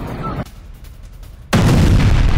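Iranian missile impact in Israel during the Iran–Israel war produces a sudden loud, heavy blast after a quieter stretch, with dense rumbling noise that stays loud to the end.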